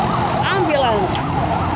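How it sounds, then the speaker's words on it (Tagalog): An ambulance siren wails on a dark roadside, its sweeping up-and-down tone moderately loud and somewhat distant over traffic background for under two seconds. "Ambulance."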